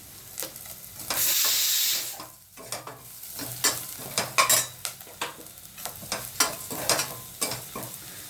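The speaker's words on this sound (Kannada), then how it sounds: "ಇದನ್ನು ಸ್ವಲ್ಪ ಫ್ರೈ ಮಾಡ್ಕೊಳ್ಳೋಣ." Spices with grated coconut, poppy seeds and turmeric frying in a pan, with close scraping stir strokes over a soft steady sizzle and an occasional clink of the spoon against the pan.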